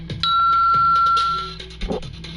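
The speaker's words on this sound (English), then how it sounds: "That's the bell, so you guys can go ahead and try to guess." A quiz bell dings during a wrestling trivia question, two bright struck tones that ring out and sustain over a low background hum, followed by a softer knock.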